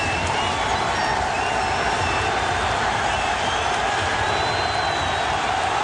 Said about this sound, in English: The crowd is alive. at the Staples Center.